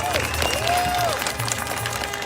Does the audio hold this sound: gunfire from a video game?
no